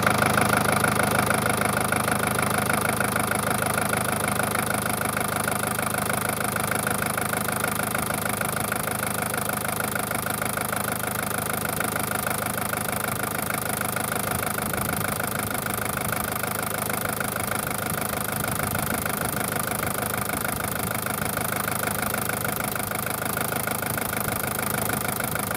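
Daihatsu diesel turbo engine idling steadily after injector pump tuning, a continuous close, loud mechanical drone with a faint knocking texture and no talk.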